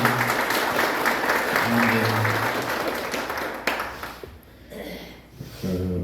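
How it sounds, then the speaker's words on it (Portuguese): A church congregation at a Passo Fundo tabernacle bursts into loud, dense applause that runs for several seconds, then thins and fades near the end as a voice and music begin to come back in. "Palmas para Jesus"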